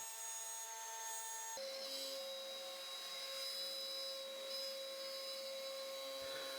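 An Onefinity CNC router runs on a woodworking job with a continuous high-pitched whine and steady motor drone, its tone shifting once as the spindle load changes.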